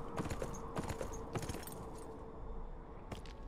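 Horse hooves clip-clop in a video game, a quick near series of hoofbeats that thins out midway, with a few jangling taps later and no talking.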